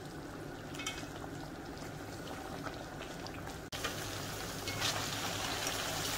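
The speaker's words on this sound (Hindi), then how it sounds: "अब हम ये हरी मिर्चों के साथ और लहसुन अदरक का जो हमने पेस्ट डाला है इसके साथ भी हम थोड़ा सा चिकन फ्राई करेंगे अच्छी तरह" Chicken frying with green chilies and garlic-ginger paste for street-style Balochi tikka, giving a dense, steady bubbling sizzle with no break apart from one sharp click.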